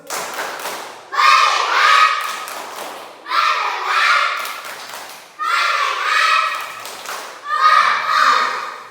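Schoolchildren in a classroom perform a rhythmic clapping routine, several bursts of loud group claps in counted sets separated by short pauses, with children's voices mixed in.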